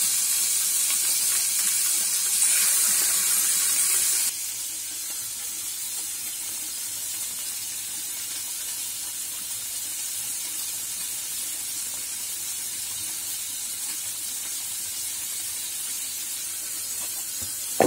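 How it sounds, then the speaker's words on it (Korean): Sliced beef fries in olive oil in a pan on a gas stove, giving a steady, even sizzle and hiss that runs throughout and drops slightly in level early on, with no voices. "잘라놓은 소고기를 넣어 구워줍니다"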